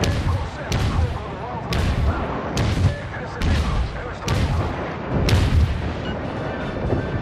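Warship naval guns fire in the video game World of Warships, with heavy booming salvos arriving about every second. Each blast is loud and close with a rumbling decay, and a voice talks faintly between the shots.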